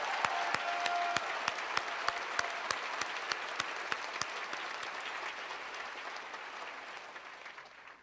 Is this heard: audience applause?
yes